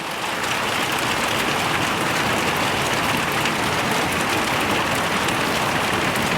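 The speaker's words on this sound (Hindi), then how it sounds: "भयंकर ओलावृष्टि, मतलब खतरनाक लेवल के ओले पड़ रहे हैं।" Heavy hailstorm in Munsyari, Uttarakhand, with hailstones pelting down in a dense, loud, unbroken roar that holds steady throughout, with no voices.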